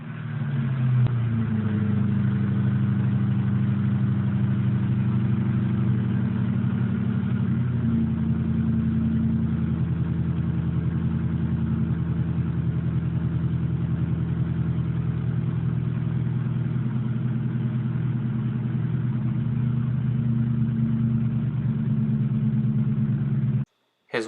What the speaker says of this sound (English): So here's a little exhaust footage with the Flowmaster exhaust